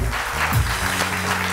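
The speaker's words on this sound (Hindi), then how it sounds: "अख्तर साहब के लिए बहुत सारी तालियां" A studio audience on a live morning talk show claps warmly, a dense, continuous round of applause that stays strong from start to finish with no voices over it.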